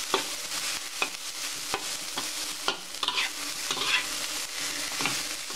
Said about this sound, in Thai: แล้วก็ใส่สมุนไพรไปเลยค่ะ ที่เราเตรียมไว้ทั้งหมดนะคะ คั่วข้าวไปก่อนนะคะ